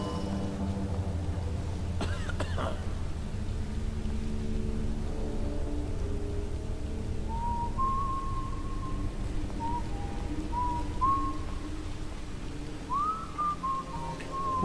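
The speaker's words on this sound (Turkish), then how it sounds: "Hoşuma gitti ıslık sesi" Short melodic whistles ring out in the stealth video game Dishonored, several brief rising and falling phrases over a low, steady ambient hum in the later half.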